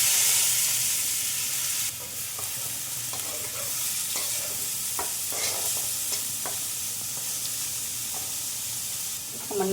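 Chopped papaya hits hot oil seasoned with panch phoron, a loud hissing sizzle at first that settles into steady frying under intermittent scraping and stirring strokes in the pan.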